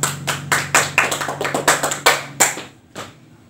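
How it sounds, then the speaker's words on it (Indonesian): Students in a peer-teaching class give a classmate a short burst of applause, a small group clapping close by in an irregular patter that fades out after a few seconds. "silakan beri aplaus kepada temannya"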